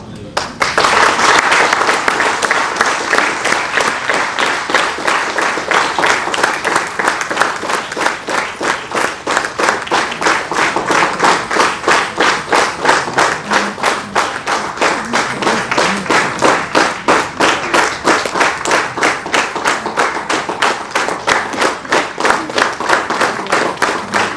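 A lecture audience in Visakhapatnam applauds, a large crowd clapping loudly and steadily for over twenty seconds, with the hand claps settling into a rhythmic, near-unison beat as it goes on.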